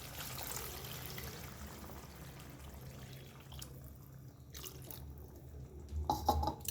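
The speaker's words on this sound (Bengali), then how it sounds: "আমি এর মধ্যে একটু জল দিয়ে দেবো।" Water splashes and trickles into a pot of potato curry for boiling the potatoes, a soft pouring sound that grows a little louder near the end, heard alone without talk.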